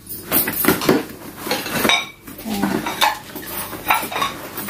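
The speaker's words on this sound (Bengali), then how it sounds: "এখানে এগুলো সব বাটি, এগুলো সব বাটি, এই যে এগুলো সব বাটি" Gifted bowls and plates clinking and knocking together as they are handled, loud and close, with repeated ceramic chinks and clatters in irregular bursts.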